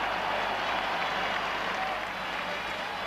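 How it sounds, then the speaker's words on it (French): A crowd of about 4000 at an ice hockey game between HC Sierre and HC Lugano in 1990-91 applauds the first goal, sustained dense clapping and crowd noise filling the arena at an even level. "4000 spectateurs qui applaudissent à ce premier but signé Fonjala dans la lucarne"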